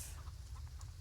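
New Hampshire chickens in the farming video game Farm Together 2, soft scattered clucks over a low steady background hum, faint and intermittent.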